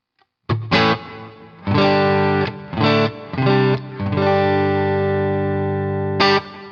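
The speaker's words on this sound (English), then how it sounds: "So let's turn on the reverb inside my software." An electric guitar is played through software reverb, with a series of distorted chords and short phrases followed by a long sustained ringing chord and one final strike.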